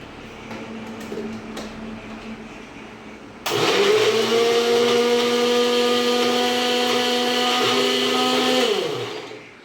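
An electric blender kicks on partway through and grinds tomatoes into paste, a loud steady motor whine that holds for several seconds before spinning down, with quiet kitchen sounds before it starts.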